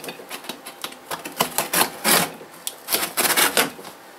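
A knife slicing open a big cardboard box, the blade cut pulled toward the person: a run of scraping, ripping bursts with brief pauses, close and fairly loud, with no talking.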